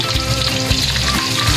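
Pompano fish frying in hot oil for sarsiadong pampano, a steady close sizzle and crackle throughout with brief pops, no talking.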